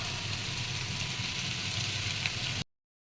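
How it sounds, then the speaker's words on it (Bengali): Onions sizzling and frying in a pan as Bengali-style greens are cooked, a dense steady hiss that runs unbroken at close range until it cuts off abruptly near the end. "পেঁয়াজটা লাল হওয়া পর্যন্ত ভেজে নেব"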